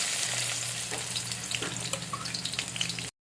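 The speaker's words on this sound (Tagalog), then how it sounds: "Gigisa na po natin. Sabay po na natin bawang sibuyas." Garlic and onion sauté together in hot oil in a pan, a steady close sizzle and crackle with occasional stirring scrapes, ending in a brief cut to silence.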